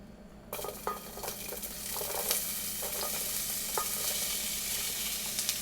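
Onion hits preheated olive oil in a pan and breaks into a loud, steady sizzle close by, with a few clinks from a utensil as it frying continues, no voices.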